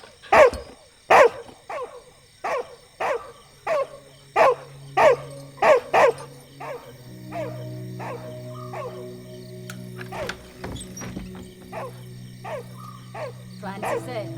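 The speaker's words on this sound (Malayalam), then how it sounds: "ആ പട്ടിക്ക് വിശന്നിട്ടായിരിക്കും അതെ കുറയ്ക്കുന്നത്" A dog barks in a Malayalam movie scene, giving a run of sharp, loud barks at a steady rhythm that later grow softer and sparser as a low drone and other background sounds come in.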